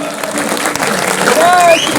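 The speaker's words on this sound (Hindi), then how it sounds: "चंदन चौधरी के लिए भी अहाँ सब जोरदार ताली बजाओ" Crowd clapping at a BJP rally in Bihar for Chandan Chaudhary, a steady burst of applause over two seconds with a voice and a tonal whistle-like sound partly over it.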